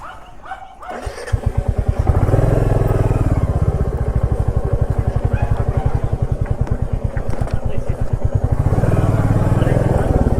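A motorcycle riding off-road through hills near Kalimpong, its engine thumping in a rapid rhythmic pulse that builds and holds loud and close, with a dog barking in the background.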